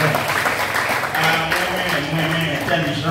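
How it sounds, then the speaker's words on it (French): Applause and clapping from a crowd fill the clip steadily, with voices talking over it. "Applaudissez, applaudissez,"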